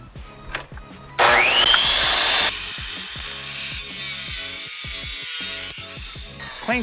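A Dewalt tile saw cuts stacked quartz tile: a motor whirs up, then a loud grinding whine as the blade bites in, holding steady for several seconds before easing off.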